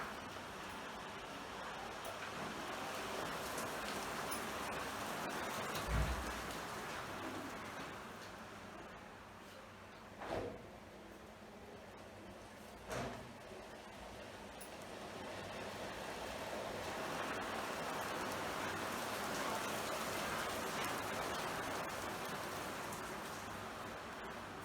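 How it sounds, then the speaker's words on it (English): Heavy rain makes a steady broadband wash throughout, swelling slightly toward the end, with a few soft thumps and no voices. "It's raining heavily here."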